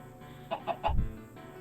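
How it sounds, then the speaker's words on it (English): Chickens in the New Londinium 1910 video game, stacked in the back seat of a vehicle, give three quick, soft clucks in a row, followed by a low thump. "Chickens are stacked in the back seat."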